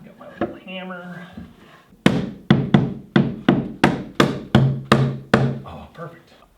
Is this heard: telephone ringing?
no